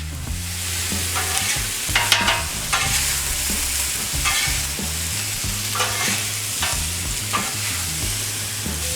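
Spicy shrimp stir frying on a 36 inch Blackstone griddle, a loud, close, steady sizzle with repeated scraping and stirring strokes from the spatula.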